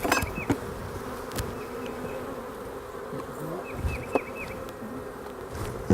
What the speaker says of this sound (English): I never thought I'd be by this many bees at once.